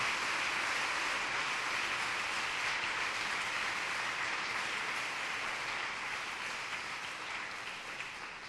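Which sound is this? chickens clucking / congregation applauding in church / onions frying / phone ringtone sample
congregation applauding in church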